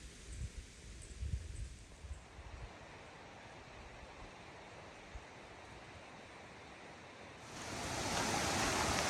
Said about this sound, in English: this is Katahdin Brook